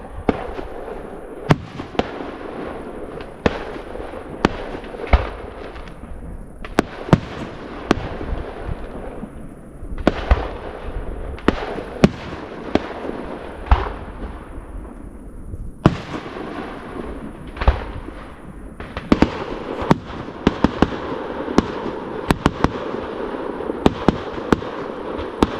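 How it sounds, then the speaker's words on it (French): A fireworks display bursts repeatedly at an outdoor evening show, with sharp cracks and booming pops in irregular clusters, some near and loud, others softer, over a constant crowd-like background. "le feu d'artifice a commencé et je vais vous laisser avec quelques petites images du feu d'artifice"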